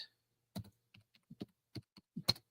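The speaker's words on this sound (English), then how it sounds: "I'm typing that in right now so I don't forget." Someone types on a computer keyboard: about a dozen sharp, close key clicks in an uneven rhythm, quiet and without talk.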